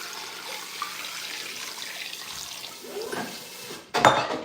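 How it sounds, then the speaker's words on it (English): Water pours into a cooking pot for ogbono soup, a soft running trickle building to a louder splash and clatter near the end, with no speech. "So I'm going to add some water."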